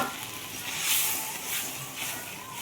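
Hot water is poured into a duck egg curry, raising a steady hissing sizzle that swells and fades in soft waves close by.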